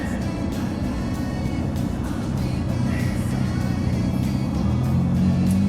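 A car idles in bumper-to-bumper traffic on a hot day, its low engine rumble steady and close throughout, with a slight rise in pitch near the end.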